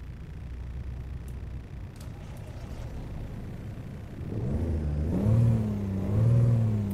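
A Cummins 444-series diesel engine in a Kenworth W900A truck in the video game American Truck Simulator idles with a low rumble, then revs up twice in rising, throaty surges.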